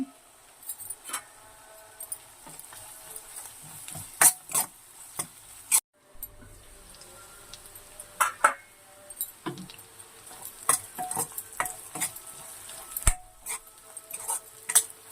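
Onions with ginger-garlic paste frying in a pan for tomato egg curry, a steady soft sizzle broken by frequent sharp scrapes and clinks of a spoon stirring against the metal, with no talking.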